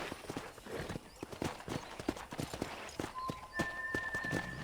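Steady clip-clop of a horse's hooves trotting at an even pace in the video game Red Dead Redemption, close and clear, with faint background ambience and a brief high tone near the end.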